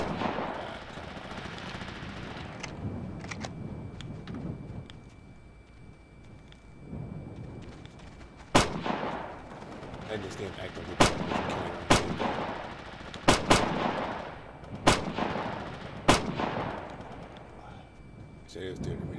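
Gunfire in the military video game Operation Flashpoint: Dragon Rising, with sharp single shots and bursts cracking out at irregular intervals, some loud and near, over low battlefield rumble and intermittent talk.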